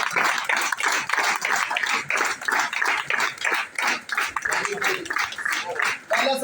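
A crowd gathered to welcome a new area manager in the Sargodha zone claps loudly and steadily, dense rhythmic applause mixed with voices talking throughout.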